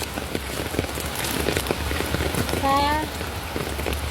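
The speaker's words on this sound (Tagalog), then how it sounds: "Ulan kami ngayon, guys." Steady rain falling near Ngau Wu reservoir in Hong Kong, a close, even patter of drops on surfaces throughout, with a brief voice and a short tonal chirp midway.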